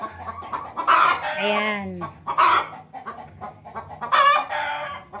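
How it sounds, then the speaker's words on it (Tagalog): Chickens in a backyard coop, with a hen cackling loudly after laying an egg: repeated rising squawks and clucks in bursts, close to the listener, with a brief spoken word mixed in. "pumuputak siya. Ibig sabihin, nag-itlog."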